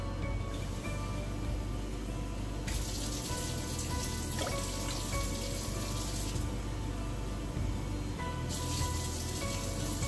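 Steady, close rush of water running from a tap and splashing into a metal pot for water bath canning, continuous for the whole stretch with slight shifts in pitch as it fills.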